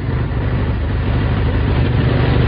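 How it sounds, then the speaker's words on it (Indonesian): A noisy vehicle engine drones steadily from some distance, a continuous low rumble that stays even in loudness throughout with no other distinct sounds. "samar dari jauh terdengar suara kendaraan yang cukup berisik"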